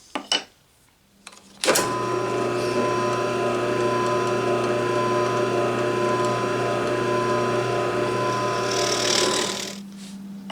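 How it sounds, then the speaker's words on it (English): A power drill whirs steadily for about eight seconds while drilling into wood, a continuous mechanical drone with brief clicks and handling noises before and after. "drill this out really quick."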